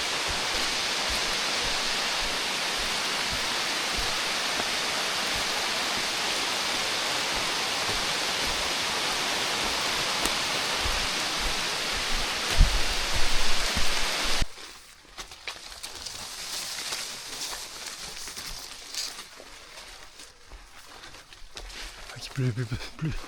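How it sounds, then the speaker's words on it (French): Heavy rain pours down in a steady, loud broadband hiss during a long walk, then cuts off abruptly to a quieter outdoor scene with lighter patter and faint sounds. "Oh là il pleut pour vrai là."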